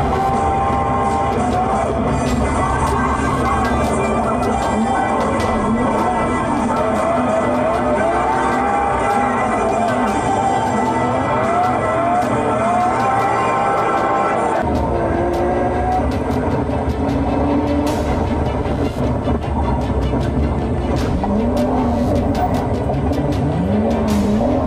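A car drifts around a race track during a practice day, its engine roaring loudly and continuously with rising and falling revs and occasional tire squeals, close and dominant throughout with no speech.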